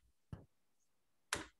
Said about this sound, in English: Now somebody's typing